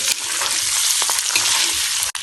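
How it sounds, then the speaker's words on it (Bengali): Eggs fry in hot oil in a pan, giving a loud, steady crackling sizzle that runs unbroken through the short stretch and ends with a brief drop. "এবারে ডিমগুলোকে ভেজে নেব।"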